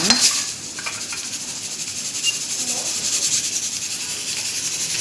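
Masala and tomato paste frying in oil in a pan while cooking brinjal, a steady close hiss of sizzling with occasional stirring scrapes and light clinks of a utensil against the pan.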